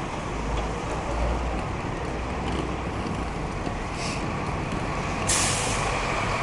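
A large truck on a downtown Toronto street lets out a sharp hiss from its air brakes near the end, over steady city traffic rumble and wind noise.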